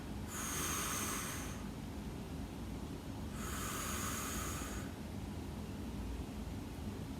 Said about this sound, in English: So that noisy breath is really important as well.